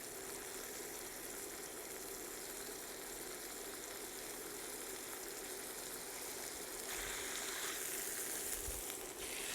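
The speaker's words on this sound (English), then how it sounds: "We'll turn on the other side, let it sear on the other side." Flank steak for Korean-style grilled steak searing in a hot pan, giving a steady, close, continuous sizzle and crackle of frying with no voices.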